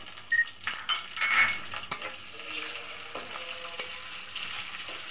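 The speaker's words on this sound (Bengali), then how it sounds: "আমার পেঁয়াজটা ভাজা হয়ে গেছে। আমি দিয়ে দিচ্ছি চিংড়ি মাছগুলো।" Shrimp hit a pan of fried chopped onion and sizzle steadily, with soft stirring scrapes and a few clinks of utensil on metal, close and moderately loud, no talking.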